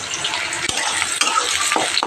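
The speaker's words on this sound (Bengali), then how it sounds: "জিরে, তেজপাতা, শুকনো লঙ্কা ফোড়ন দিয়ে পেঁয়াজটা দিয়ে দিয়েছি।" Sliced onion sizzles loudly in hot oil tempered with cumin, bay leaf and dried chili, with continuous crackling and bursts of spatula scraping against the pan.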